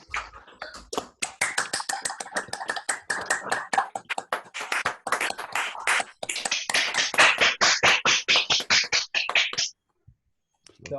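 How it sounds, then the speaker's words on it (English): Participants in an online lecture clap after it ends, producing a string of separate, sharp hand claps and taps that come in uneven bursts, close and distinct rather than a blended roar, before stopping abruptly near the end. "then we can give Martin a round of applause"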